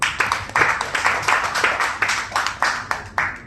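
An audience at a public meeting stage claps loudly, and the dense applause has rhythmic peaks that rise and fall without pause for several seconds, heard close up.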